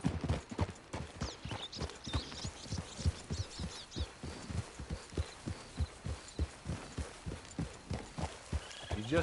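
Horse hooves clip-clop in a steady, rhythmic gait in the Western video game Red Dead Online, the beats clear and close, with faint ambient background and no talking.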